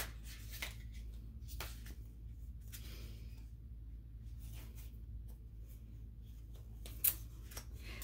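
Spirit Junkie oracle cards shuffled by hand in a quiet room, soft repeated riffling and slapping of the deck in short bursts, with one sharper snap near the end.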